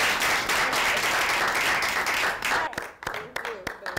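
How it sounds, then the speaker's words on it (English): Audience applause at a Brooklyn poetry performance, a thick sustained roar of clapping that thins out toward the end into a few scattered individual claps. "a rousing round of applause for Katie Turner."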